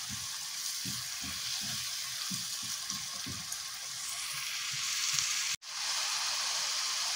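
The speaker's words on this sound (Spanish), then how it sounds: "ahora vamos a echar nuestro tomate rallado y vamos a dejarlo que suelte todo el caldo y que evapore también" Grated tomato sizzling and frying with garlic and onion in a pan, a steady close hiss with soft stirring and scraping knocks at first, ending in a brief break.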